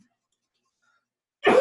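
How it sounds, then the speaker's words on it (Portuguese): A single short burst of coughing arrives abruptly after a long silence, near and loud, from a lecturer speaking Portuguese during a civil procedure class. "Estou com uma tosse."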